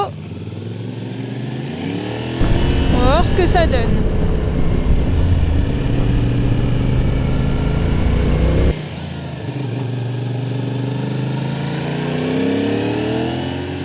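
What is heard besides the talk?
CFMOTO 450SR motorcycle engine while riding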